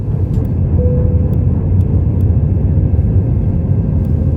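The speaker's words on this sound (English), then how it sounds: "It was a lovely, smooth and quick takeoff into the evening and crisp Hamburg sky." A Lufthansa airliner taking off from Hamburg in the evening gives a steady, loud cabin rumble and whir of the engines, continuous for a few seconds with no voices.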